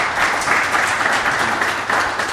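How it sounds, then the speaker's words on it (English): An audience claps in sustained applause at a live conversation event, a dense, steady wash of hands lasting the whole moment. "can we give a round of applause for Chim"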